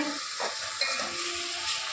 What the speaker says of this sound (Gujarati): આપણે ચમચીથી હલાવવાની છે